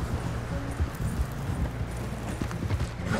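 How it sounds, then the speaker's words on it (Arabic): A horse gallops in the video game Red Dead Redemption 2 Online, a steady, fast drumming of hoofbeats close by, with faint rushing wind and no talking. "بسرعه عشان امشي يا الحصان، يا الحصان امشي"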